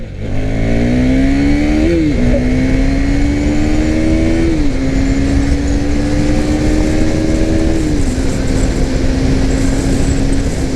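A 2021 KTM Duke 390 BS6 motorcycle accelerates hard in second gear, its loud engine note climbing steadily with brief dips at shifts, close and continuous against heavy wind noise.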